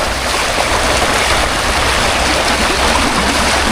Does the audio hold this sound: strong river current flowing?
yes